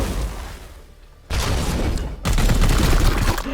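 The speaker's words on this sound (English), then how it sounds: "Opening fire." Heavy gunfire volleys in the turn-based video game Warhammer 40,000: Chaos Gate Daemonhunters, loud sustained bursts that cut in abruptly twice after a quieter lull, rattling on with booming impacts.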